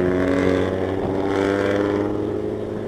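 A Yanti Group bus rumbles past with a deep, droning exhaust note that stays loud and close for about three seconds before easing slightly as it moves away.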